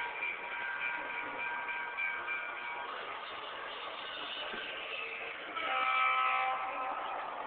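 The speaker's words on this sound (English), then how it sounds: "This is my train right here, my locomotive." A model train locomotive with a passenger car runs on a layout, giving a steady mid-to-high whirring rumble that holds throughout and grows a little louder near the end.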